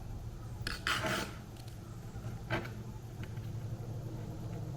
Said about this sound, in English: So now I'm going to take this screwdriver. I think it's going to take a little bit of persuasion to get that off.